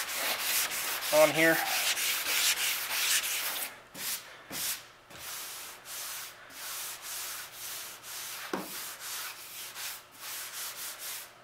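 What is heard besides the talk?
sanding car body filler with 120 grit sandpaper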